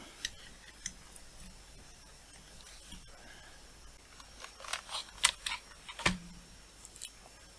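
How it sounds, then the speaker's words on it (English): A PS2 keyboard connector is plugged into a 6502-based CreatiVision re-creation computer, giving a few faint, sharp plastic clicks and small knocks in a quiet room. "I'll also plug in a PS2 keyboard"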